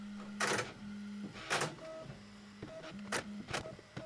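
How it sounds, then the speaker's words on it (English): A Bambu Lab H2C 3D printer runs its initial motor noise calibration, giving steady humming tones that shift pitch in steps, broken up by several short whirring bursts, quiet and close. "The initial calibration process, which includes motor noise calibration, vibration compensation, auto bed leveling, and nozzle offset calibration"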